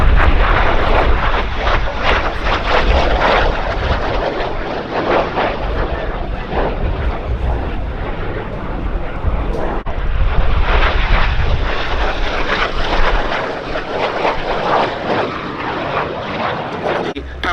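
De Havilland Vampire jet aircraft performing at the Duxford summer air show, a loud, continuous roar of engine noise that swells and holds steady for the whole stretch, dense and close without pause.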